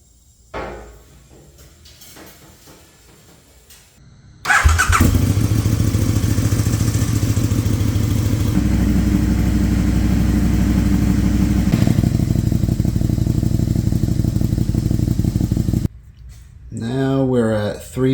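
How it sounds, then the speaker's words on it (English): A KTM Super Duke R motorcycle from the 2014-2016 models fires up after an oil change and idles loudly and steadily up close, settling in pitch midway; brief speech before the start and after it cuts off. "So I'm gonna let the bike down, run it for about 30 seconds or so, a minute, check it for leaks"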